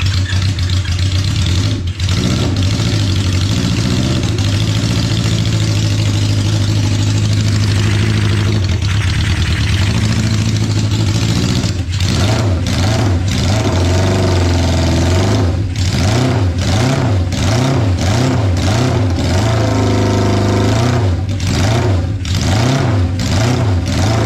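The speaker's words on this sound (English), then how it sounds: "I think maybe the idle's too slow. I'll turn it up a little bit." A 1972 Honda CB500 Four motorcycle engine idles with a steady, close-up rumble, then revs up several times in repeated rising and falling bursts toward the end.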